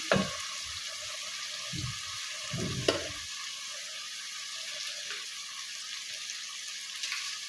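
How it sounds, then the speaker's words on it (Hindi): Masala for an egg and potato curry frying in a pan: a few scraping stirs in the first seconds, then a soft, steady sizzle that carries on evenly. "इसे अच्छी तरह से भूनूंगी, मज़ीद पकाऊंगी"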